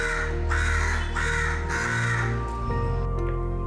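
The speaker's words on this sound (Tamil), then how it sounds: "காக்கா எப்பயுமே வந்து நிறைய காக்கா சேர்ந்து வந்து தான் சாப்பிடும்." Several crows cawing while feeding: four loud, harsh caws in a steady rhythm close by, over a constant low background hum.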